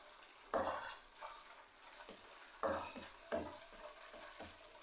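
Vegetable fried rice stirred in a hot pan gives a steady sizzle, broken by three louder scraping strokes of the spatula and a few softer clinks against the metal. The sound is close, with no talking.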